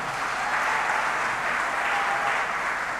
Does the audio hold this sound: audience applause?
yes